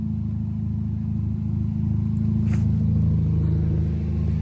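A Porsche Macan idles with a muffler-delete quad-tip exhaust, giving a steady, smooth low rumble that is close and constant with no revving.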